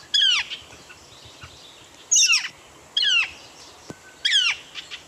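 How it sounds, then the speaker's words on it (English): Northern flicker woodpecker calling: four loud, sharp repeated squawking calls spaced about a second apart, close and clear over quiet outdoor background. "Here is the northern flicker's call."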